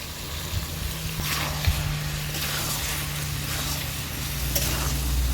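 Jackfruit and prawns sautéing with fried spice powder and dry red chilli powder, a steady close sizzle and frying hiss with occasional stirring scrapes, no talk.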